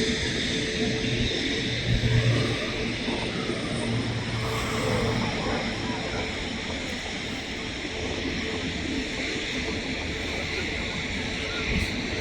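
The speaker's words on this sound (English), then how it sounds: "Private jets turning up at Manchester Airport as of late" A private jet at Manchester Airport, heard from the runway visitor park, produces a steady, loud jet engine roar that holds throughout without letting up.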